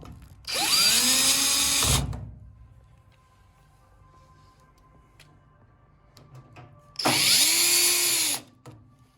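A power drill drives screws into the back plate of an over-the-stove microwave in two loud bursts of whirring, each about one and a half seconds long, separated by a quieter gap.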